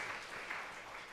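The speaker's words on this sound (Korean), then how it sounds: "우리 흰머리 소년들에게도 감사의 박수 한번 드리겠습니다" A church audience at a revival service applauds in thanks to elderly veterans, a steady dense patter of clapping from many hands with no pauses.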